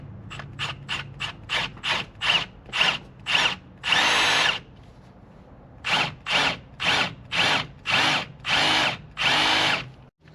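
Power drill boring a hole while fitting an oil separator on a 2011-2017 Mustang GT, heard as a fast series of short bursts and then longer sustained runs with brief pauses, loud and close, with no talk.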